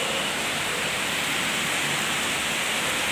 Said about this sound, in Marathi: 5 वाजता इथे पाऊस चालू आहे केव्हाचा.